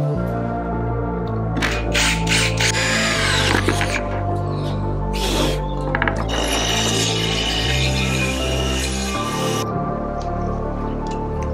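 Hand-powered tool work fitting a part on a water tank, with a steady low mechanical hum underneath and repeated scraping, clicking and ratcheting bursts.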